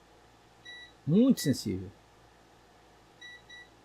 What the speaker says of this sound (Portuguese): Ó, só encostando de levinho. Ele já bipa.